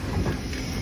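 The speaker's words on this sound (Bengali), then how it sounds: "এই ট্রেনটাই যাবে আরাশিয়ামা, আমরা এই ট্রেনে উঠবো" A train bound for Arashiyama gives a brief, steady rumble and hiss from nearby, with no voices over it.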